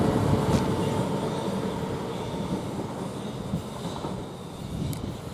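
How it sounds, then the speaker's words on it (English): A train rumbles into Ashford International station, a steady rolling roar of wheels and carriages with faint rail clatter, fairly close and continuous. "Now I've got a train moving, coming into here, into the station."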